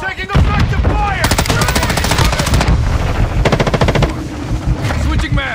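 Call of Duty Modern Warfare 2 multiplayer gunfire: loud rapid automatic bursts crackle in two long strings, with single shots between them, and brief voices come in over the shooting.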